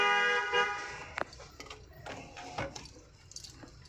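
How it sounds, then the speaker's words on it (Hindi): A car horn toots during a driving lesson in narrow lanes, with a sustained harmonic blast near the start followed by scattered clicks and light road noise. "लॉन्ग हॉर्न पुश करो।"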